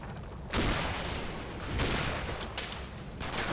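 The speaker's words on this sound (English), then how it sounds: "there's a bit of Sten fire from" Sten submachine gun fire crackles in the Combat Mission World War II game, several dense, rattling bursts heard at a distance over a constant rumbling battle backdrop.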